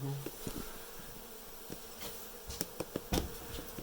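Honey bees buzz steadily during a hive cutout in Dorrance, Kansas, a soft continuous hum with a few sharp knocks and taps rising near the end.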